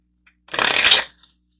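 Playing cards shuffled in one quick, close riffle lasting about half a second, crisp and alone with no talking.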